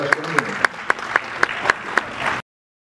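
Applause from a symposium audience welcoming the deputy mayor to the podium: sharp, evenly spaced claps ring out over a steady crowd wash for about two and a half seconds, then cut off abruptly into silence.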